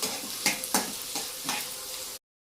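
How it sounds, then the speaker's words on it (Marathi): Onion sautéing in a pan for a cauliflower stir-fry, a close steady sizzle with a few louder scraping stirs before it cuts off abruptly. "कांदा हलका लालसर होईपर्यंत आपण थोडा परतून घेऊया."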